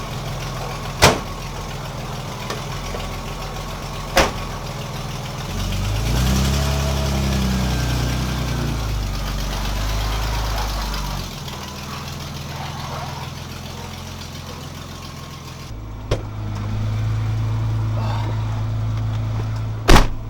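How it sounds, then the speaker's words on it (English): A BMW E30 turbo engine runs steadily at idle, with a swell in revs around the middle, sharp door-like thumps near the start and end, and no talking. "time to take it out for a test drive, make sure that it's not misfiring anymore"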